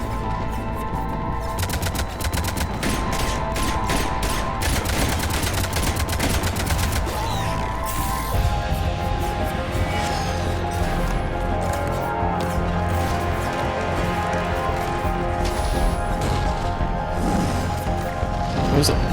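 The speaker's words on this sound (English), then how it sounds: "Cannons engaged." Cannons fire in rapid, dense volleys during a battle in Mass Effect 3, loud and continuous with crashing impacts, layered over game music and effects throughout.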